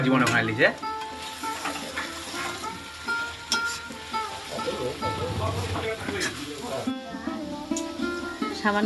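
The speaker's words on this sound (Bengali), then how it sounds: "তারপরে আমি ভেজে রাখা আলুগুলোকে দিয়ে সামান্য" Fried potatoes sizzle in hot oil with turmeric in a pan, a steady crackling hiss broken by scraping stir strokes, with a person talking over the cooking.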